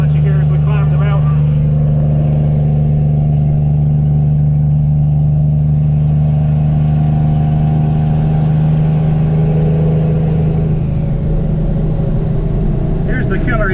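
A big dump truck's engine pulls hard up a mountain grade, heard from the cab as a loud, continuous low drone that holds steady, then roughens near the end.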